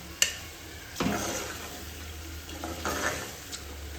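Ridge gourd sabzi sautéed in a cooker, a spoon scraping and stirring in short bursts over a faint steady sizzle, with a few clinks of metal against the pot.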